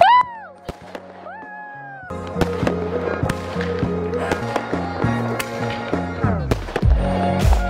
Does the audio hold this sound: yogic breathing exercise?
no